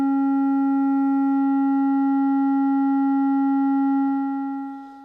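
A Klavis Mixwitch eurorack mixer pushed to full volume produces a steady, loud, buzzy tone rich in harmonics, held unchanged for about four seconds before fading out.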